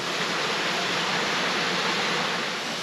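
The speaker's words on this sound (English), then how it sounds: "It has like a mini waterfall and then like 2 pools with a log going up in the center." A mini waterfall pours into rock pools at Rincon Basin in Las Cuevas, Trinidad, giving a steady, close, broadband rush of falling water with no voices.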